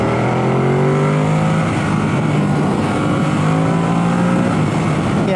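A Ducati Supersport S motorcycle, fitted with a quick shifter, roars loudly and continuously as it accelerates, engine pitch climbing and stepping through gears without letting off, heard up close with steady wind rush.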